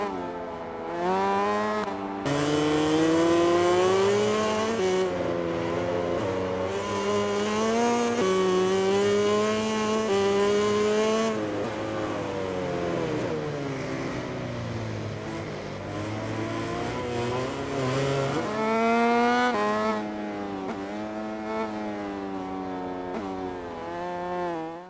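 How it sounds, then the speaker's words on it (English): Loud, high-revving MotoGP racing motorbike engines in the video game MotoGP 20 on Switch rise and fall in pitch as they shift gears and pass, continuous and close with no talking. "The motorbikes sound powerful."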